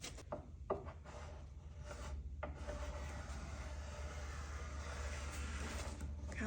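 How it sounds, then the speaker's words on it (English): A painter's multi-tool scrapes softened stripper off wooden furniture in a steady, rasping drag. A few sharper strokes come early on, then a continuous close scraping runs to the end. "I'm using a multi-tool, like a painter's multi-tool to scrape."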